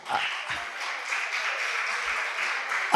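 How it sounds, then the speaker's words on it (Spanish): A church congregation claps steadily in welcome for the evening's preacher, a moderate, even patter of applause that fills the room for a few seconds. "Vamos a recibirlo con un fuerte aplauso al predicador de esta noche"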